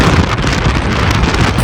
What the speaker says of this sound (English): the wind got even stronger, and at times, I felt I was lifted by the strong gust.